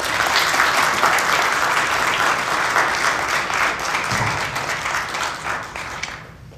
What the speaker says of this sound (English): Please applaud for Jenny.